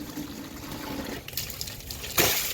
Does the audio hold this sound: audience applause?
no